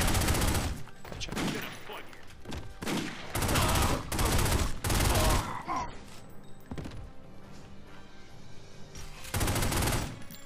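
Loud bursts of automatic gunfire from a third-person crime shooter set in the mob underworld, several rapid volleys spaced across the clip with brief lulls between them.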